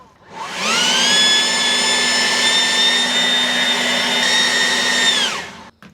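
A gas-powered leaf blower spools up and runs flat out for about five seconds, a loud high-pitched whine with a strong steady roar, then winds down quickly.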